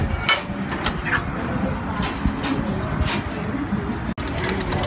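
Pigeons cooing in a racing-pigeon loft, with soft repeated coos mixed into a busy, continuous background of rustling and bird activity, moderately close.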